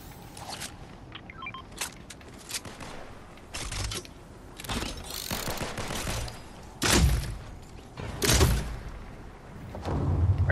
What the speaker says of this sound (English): Are you shooting an egg launcher at me?